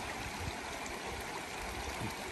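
Creek water rushing over rocks at a trail crossing on a forest hike, a steady broadband wash that stays constant and fills the whole moment, no voices.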